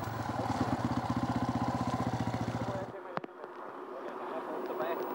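A Red Bull KTM enduro motorcycle at Erzberg chugs with a steady, pulsing engine beat for about three seconds, then drops away, leaving a sharp knock and quieter background noise.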